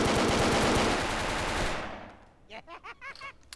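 An automatic weapon fires a rapid, continuous burst in the blocky shooter game Brick Force, loud and dense for nearly two seconds before cutting off, after which someone speaks.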